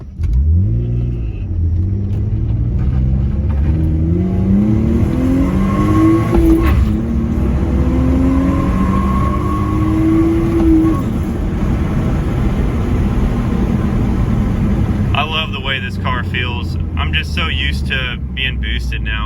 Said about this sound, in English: take it for a little drive here. It's just a stock 325 with some B30 add-ons